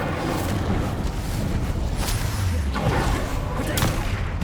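A fire spell cast in Hogwarts Legacy, heavy booming, roaring bursts with repeated thumping impacts and crackling, continuous and loud throughout, mixed with game effects and some voice.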